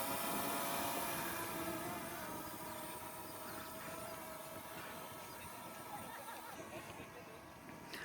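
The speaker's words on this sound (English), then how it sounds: "let's go watch some more trains go past." A train rumbles past at a distance near Ribblehead Viaduct with a steady low roar and faint rhythmic clatter, slowly fading, at a very low volume.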